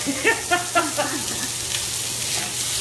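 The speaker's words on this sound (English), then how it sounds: "So we got a good sear over tenderloin." Pork tenderloin searing in a hot pan gives a steady, close hissing sizzle, with a few brief tonal bursts early on and then an even crackle to the end.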